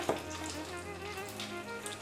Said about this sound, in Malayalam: കടുക് പൊട്ടിച്ച് കറിവേപ്പിലിട്ട്